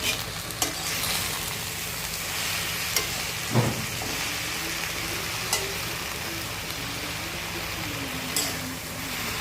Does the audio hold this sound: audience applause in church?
no